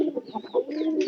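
Pigeons in a pigeon house make soft, close cooing and throaty bird calls, with a short burst of overlapping sounds in about a second.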